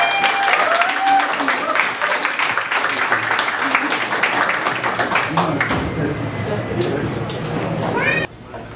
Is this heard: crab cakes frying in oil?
no